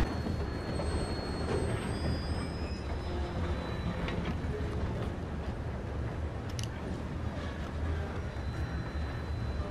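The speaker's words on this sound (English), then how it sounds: "I'm jumping on your train." A train rolls steadily along the rails in Red Dead Redemption 2, a continuous loud rumble with wheel clatter and faint metallic squeals running throughout, no voices over it.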